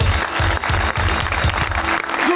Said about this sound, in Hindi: एक दफा फिर अनुशे बाजी के लिए तालियां